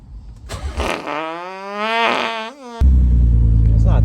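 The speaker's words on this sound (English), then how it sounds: "let me just do a start up here. Nice little cold start." Car engine cold start with no catalytic converters: a cranking burst, a wavering rising and falling whine, then the engine catches into a loud steady low idle.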